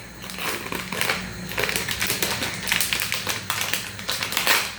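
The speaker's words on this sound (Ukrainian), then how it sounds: "Давайте я відкриваю цей пакетик." Crinkling and tearing of a plastic packet, a run of irregular crackly rustles up close with no talking.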